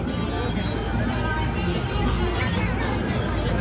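A large crowd packs the foot of the Mandhardevi Kalubai temple, where a long queue waits. Dense, continuous babble of many voices fills the scene at moderate loudness, and nearby people talk over it.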